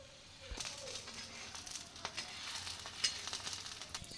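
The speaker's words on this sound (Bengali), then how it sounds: "এবার তেল দিয়ে হালকা করে ভেজে নেব।" Tacos frying lightly in oil on a tawa give a steady, close sizzle with small crackles and pops, running alone throughout after a brief thump at the start.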